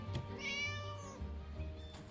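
A cat in the game Scary Teacher 3D gives a single drawn-out meow, fairly close and clear over a quiet background.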